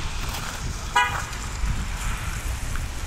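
A car horn toots once, a short sharp blast from a passing car heard over a steady background of road rumble in a snowy outdoor setting, with no talking.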